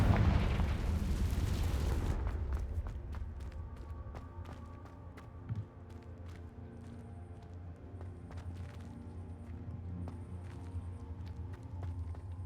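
Hogwarts Legacy fire spell Confringo: a loud, close burst of fiery explosion for about two seconds, then fades into quiet ambient game sound with scattered footsteps and small impacts.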